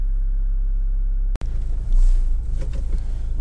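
A Toyota RAV4 2.0 D-4D diesel engine idles with a steady low rumble, broken by a sharp click or knock partway through, then continues with a slightly rougher drone, close and alone.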